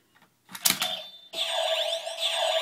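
A Kamen Rider OOO Birth Driver toy belt's electronic transformation jingle: a couple of short mechanical clicks and chimes, then a bright, sustained synthesized fanfare with warbling tones, loud and close.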